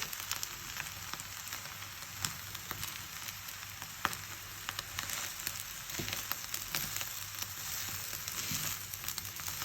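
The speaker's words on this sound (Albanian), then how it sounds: "I përzijem në mënyrë të avashtë." Stuffed eggplant filling frying in a pan, a steady dense sizzle and crackle with occasional soft stirring scrapes, close and continuous without any talk.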